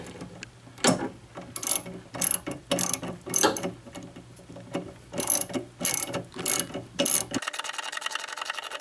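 A socket wrench ratchets in quick bursts of clicking while loosening the front bolts on a DDMWorks cold air intake on a Saturn Sky or Pontiac Solstice, close and fairly quiet, with short pauses between strokes.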